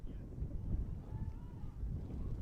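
Wind gusts buffet the microphone at an outdoor cricket match in the Northeast, a steady low rumble with rising and falling surges that runs through the whole stretch, fairly close and moderately loud.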